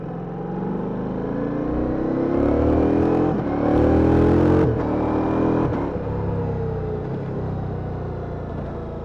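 A sport motorcycle engine, BMW S 1000 XR or Ducati Multistrada V4, revving up and accelerating, rising in pitch across several gear pulls, loud and close with no talk over it.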